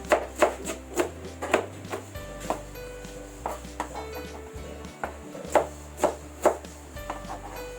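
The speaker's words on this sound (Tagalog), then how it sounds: "i-rough chop na rin po natin ang ating oregano" A knife roughly chops fresh oregano on a cutting board in a home kitchen, making a quick series of close, crisp taps in uneven bursts, about fifteen strikes, with a low hum beneath and no talking.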